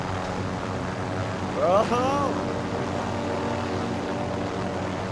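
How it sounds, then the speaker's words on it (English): A helicopter in Call of Duty Warzone Season 4 hums and whirs steadily in the background, a constant mid-level drone under a brief spoken word. "Bro, why was this helicopter just chill?"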